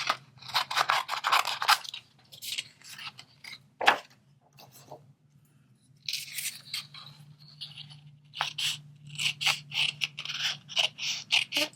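Scissors cut a paper stamped sentiment by hand, giving quick runs of crisp snips and scrapes in several bursts separated by short pauses. The sounds are close and clear.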